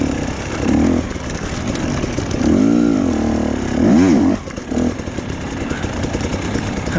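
Husqvarna TE250i two-stroke dirt bike on a rough trail, its engine buzzing and revving in several rising and falling bursts, loud and close throughout.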